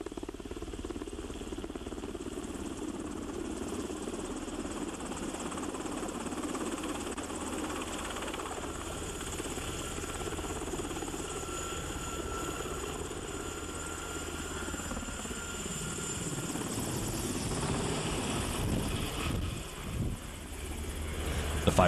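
A Firehawk firefighting helicopter drones continuously with steady rotor chop and engine whine at a helibase, fairly close, growing a little louder toward the end.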